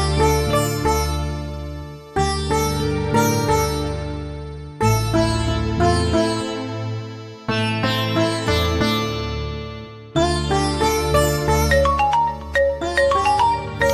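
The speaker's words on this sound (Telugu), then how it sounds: "మా అమ్మ ఫోన్ చేస్తుంది." A mobile phone rings with a loud, bright melodic ringtone that repeats its musical phrase several times, played alone and close by.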